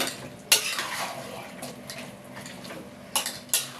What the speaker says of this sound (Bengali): এবার মাংসটাকে ভালো করে কষিয়ে নিতে হবে।